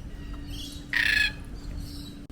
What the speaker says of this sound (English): Laughing kookaburra.